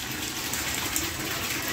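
Water gushing hard into a bucket from a broken tap, a steady loud rushing pour filling the whole short stretch with no talking.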